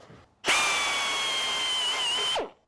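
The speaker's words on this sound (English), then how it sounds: "I'm actually going to try and get the drill spinning up before I get in the hole" A non-variable-speed power drill spinning in reverse while boring a hole in a gas can: a sudden loud whine starting abruptly, holding steady for about two seconds, then cutting off with a falling pitch.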